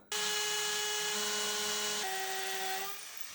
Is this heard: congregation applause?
no